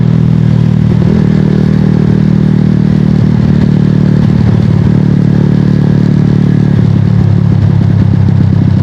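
A Sniper 150 V1 motorcycle with a 70mm big-bore block and six-speed manual conversion runs loud and close, a steady engine drone broken by several short rev bursts.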